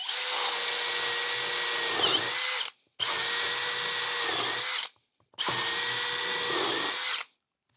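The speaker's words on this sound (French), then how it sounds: "Je suis sur un forêt à bois de 10 mm de diamètre." A Makita DHP485Z cordless drill bores into wood with a 10 mm wood bit in drill-only mode, producing three loud, steady high-pitched whirring bursts of about two and a half seconds each, separated by short silences.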